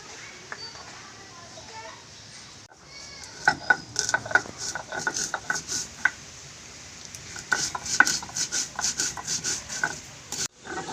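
Whole cumin and black pepper are ground by hand for a prawn dish steamed in pumpkin leaves, with rhythmic scraping and grinding strokes and a few clinks, close and moderately loud, and a person talks over part of it.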